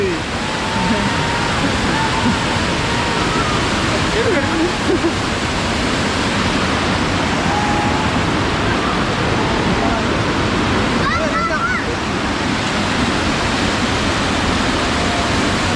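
Challangayam Kampam waterfall pouring steadily, a loud, close, unbroken roar of falling water that fills the whole stretch, with faint voices now and then beneath it.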